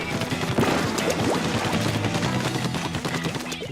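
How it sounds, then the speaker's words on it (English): Rapid paint-shooting fire in the video game Splatoon, a dense stream of splattering shots layered over busy game effects and background music, loud and continuous. "I will shoot paint into that unpainted area"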